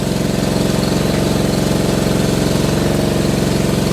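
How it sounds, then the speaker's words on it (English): A small gas engine on a post-hole auger runs at a steady idle, a loud, close, continuous throbbing drone with a regular low pulse and no pauses or voices. "Give the auger a go."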